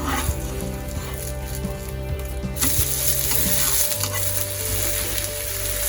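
Ada dosa cooks on a hot pan with a dense, steady sizzle and crackle, joined partway through by a stronger hiss and background humming tones.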